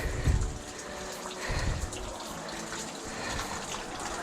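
Water rushing over rocks on a flooded hiking trail at Acadia's Sieur de Monts after a rainstorm, a continuous close gushing roar with a few low thuds from footsteps.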